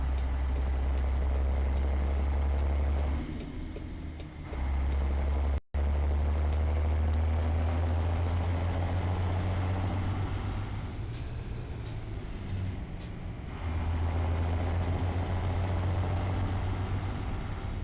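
A 389X truck in American Truck Simulator: a heavy, steady diesel drone with a rising and falling engine whine across gear changes, sharp air-brake hisses, and one brief dropout.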